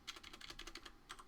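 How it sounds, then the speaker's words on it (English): Quick, close keystrokes on a computer keyboard come in a burst of about a dozen clicks with a brief pause near the end. "I'm typing show IP DHCP binding on the switch."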